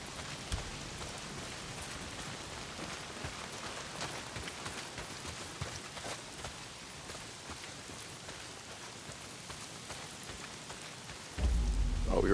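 Heavy rain pours steadily in the video game Days Gone, a dense constant hiss of drops on surfaces with no talking, swelling louder and lower near the end.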